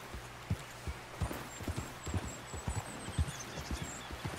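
A horse's hooves clop at a steady walking rhythm in the Red Dead Redemption 2 game, evenly paced and moderately close over a soft ambient bed with faint high bird calls.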